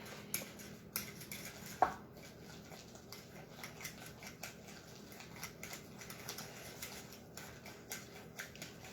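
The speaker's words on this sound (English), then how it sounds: "I'm still just mixing it with a fork" A fork mixing a creamy salted and peppered mixture in a bowl, faint soft clicks and taps of metal against the dish at an irregular rhythm, close and quiet with no talking.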